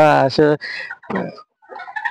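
Golden Sebright chickens at a backyard farm give short, loud clucks and calls close to the microphone, a few separate vocal bursts with brief gaps between them.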